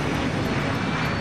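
Airliner engines roaring steadily during a slow, drawn-out takeoff, a dense continuous rumble and whine with no talking.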